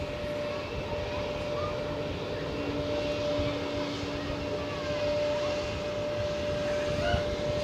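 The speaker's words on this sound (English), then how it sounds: "It will be an Airbus A321 off to Naples." Steady jet-engine roar of an Airbus A321 airliner taxiing at Zurich airport, a constant broad whine with a sustained tone, heard from a moderate distance under faint background noise.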